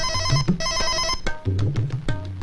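A phone ringtone rings indoors in a Telugu film scene, a melodic electronic tone repeating in two clear bursts, close and loud with no talk over it.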